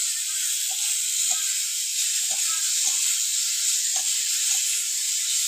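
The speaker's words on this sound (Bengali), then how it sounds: "এবার 2 মিনিট মতন ভালো করে কষিয়ে নেব।" Cut star fruit with turmeric and salt frying in a pan, giving a steady bright sizzle with faint clinks and scrapes underneath, continuous and close.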